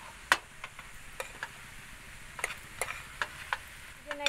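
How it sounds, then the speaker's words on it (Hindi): Food is mixed in a pan at a campsite, scattered sharp scrapes and clinks of the utensil sounding faintly at irregular intervals over a quiet sizzling background. "अभी इसको मिक्स करेंगे।"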